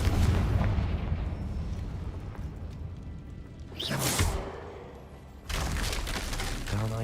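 A Confringo fire spell in Hogwarts Legacy bursts at close range in a game scene: a sharp whooshing blast around four seconds, then a second louder burst near five and a half seconds, over steady rumbling background.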